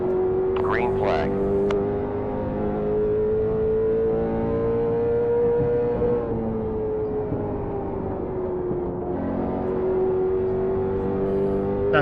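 A steady racing-sim engine drones at near-constant pitch during a Cars Tour race at North Wilkesboro, with a brief upshift around the middle and a faint dip later, while someone talks over it.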